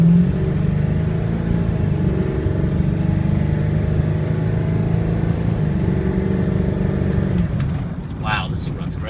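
A Ford car's engine runs steadily while driving in a 25 zone, a constant low rumble from the cabin that fills most of the clip before easing off near the end, with faint voices underneath.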